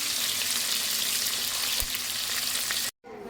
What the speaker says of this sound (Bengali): আর মাছগুলোও আমি ভেজে নেব।